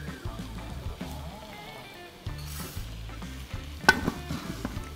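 Orzo, garlic and vegetables toast in a hot pan while being stirred and pushed around, giving a steady soft sizzle broken by scraping and knocking of the utensil, with one sharper clatter partway through.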